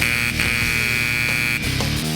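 A harsh electronic buzzer rings continuously in a TV studio, loud and close, with a short dip in the middle.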